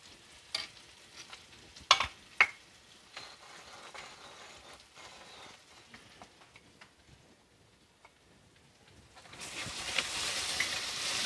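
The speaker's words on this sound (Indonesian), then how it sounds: "Kita tumis sampai mateng, sampai wangi." Spice paste for bihun goreng being sautéed in a pan: a few sharp clinks and scrapes of a utensil over a faint, steady sizzle, and then the frying swells into a louder, continuous hiss near the end.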